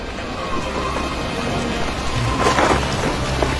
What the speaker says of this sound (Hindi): ये कैसा तूफान आया है?